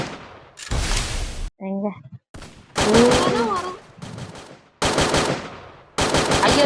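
Rapid bursts of automatic gunfire in the Free Fire game come loud and close in several separate volleys, with short pauses and brief in-game tones between them, and a voice speaks briefly.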